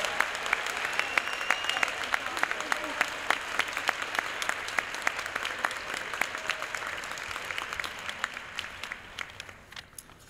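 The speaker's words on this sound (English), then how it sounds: "Please give a big round of applause to our Math League recipients." A crowd applauds steadily for about ten seconds at a school committee meeting, the clapping dense and sustained before tapering off at the very end.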